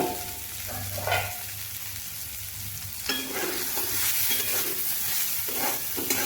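Sliced bitter gourd (karela) frying uncovered in a pan with salt and turmeric, a steady soft sizzle with occasional scraping stirs at a close, moderate level, no talking.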